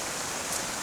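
Small river flowing after recent rain on the Isle of Arran near Whiting Bay, a steady broadband rush of moving water, continuous and fairly close with no voices.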